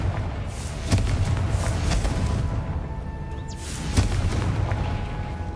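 An explosive blast from the Confringo fire spell in Hogwarts Legacy, a booming thud near the start and a second one about three seconds later, both over a steady loud rumble of game ambience.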